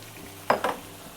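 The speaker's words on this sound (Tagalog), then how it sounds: "Pwede na nating ilagay ang ating hot dogs" Hot dogs dropped into browned beef in a hot pan for Filipino-style spaghetti, two quick close sizzling bursts with a clatter over a faint background hiss.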